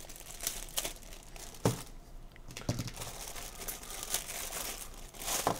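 Plastic packaging of a WWE action figure cut and pulled open, giving close crinkling and crackling with a few sharper snaps and tearing sounds spread across the clip.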